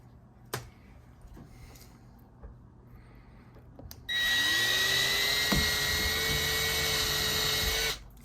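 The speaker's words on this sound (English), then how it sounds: "I can literally drill the holes for the plastic anchors" A single faint tap, then a power drill starts abruptly and whines steadily at high speed for about four seconds before cutting off, drilling holes in a wall for plastic anchors.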